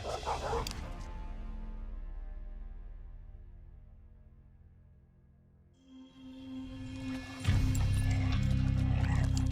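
Dogs summoned in a Minecraft roleplay battle bark and yip in a burst, fading, then a louder flurry of game sounds and barking returns near the end.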